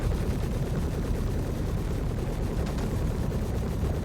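Spaceship guns fire in a space combat video game, a dense continuous barrage of rapid shots that stays loud and unbroken throughout.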